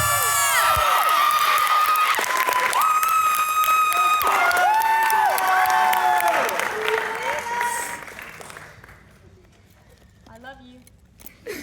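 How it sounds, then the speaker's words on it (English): A live audience at a university spring showcase applauds and cheers for the singer Amanda, dense clapping and shouts swelling loudly over music, then thinning and fading toward the end. "I want you all to give a big round of applause for our amazing,"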